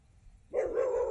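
A dog near a village pond gives a single loud, close bark that breaks in halfway through after near silence.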